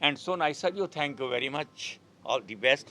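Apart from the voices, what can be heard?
None of the usual background noises is heard.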